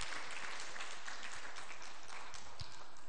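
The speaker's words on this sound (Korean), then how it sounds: "다시 한번 좀 격려의 박수 한번 좀 부탁합니다." Congregation in a church applauding the choir, with dense, steady clapping from a full room continuing throughout at an even, moderate level.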